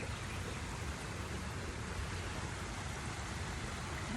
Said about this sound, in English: This water is moving really fast today from all of the rain.